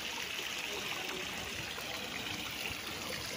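Spring water runs steadily into a swimming pool at a resort in Liliw, Laguna, making a constant close rushing hiss with no breaks and no voices.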